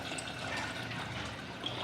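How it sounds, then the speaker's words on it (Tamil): Masala water, ground in a mixer, pours steadily into rasam in a kitchen, a short continuous splashing and gurgling of liquid heard close up without talk. "ரசத்துக்கு எந்த அளவுக்கு தண்ணி வேணுமோ அந்த அளவுக்கு தண்ணி ஊற்றிக்கலாம்"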